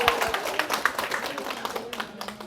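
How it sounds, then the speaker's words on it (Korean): A church lecture audience claps together for a congregant standing at the back, a steady patter of many hands running throughout at moderate volume, with some voices in the room. "박수 한번 쳐줍시다"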